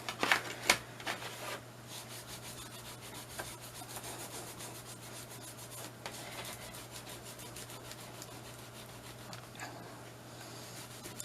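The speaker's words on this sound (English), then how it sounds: "Just give it a good rub." Close, continuous scrubbing on a laser-engraved acrylic sheet in quick repeated strokes, with a few sharper knocks at the start and a faint steady hum underneath; nobody speaks.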